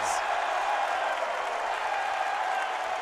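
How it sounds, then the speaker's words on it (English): Arena crowd at a college men's basketball game, Oakland against Michigan State, applauding steadily as Oakland brings the ball up; a dense, continuous roar of clapping and crowd noise, loud and unbroken. "Listen to that applause as Oakland is on offense."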